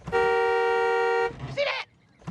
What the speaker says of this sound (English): when I inhale, my titty make the horn honk